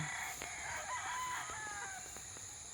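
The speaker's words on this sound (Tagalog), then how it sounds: "konting manok na nilagay dito" A rooster crows once at moderate distance while hens cluck softly now and then over a steady background hiss.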